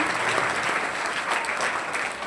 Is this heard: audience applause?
yes